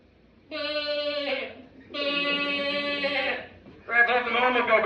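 A person imitates an ordinary goat's bleat with their voice, three wavering, harmonic bleats in a row, each about a second long and separated by short pauses, close and clear.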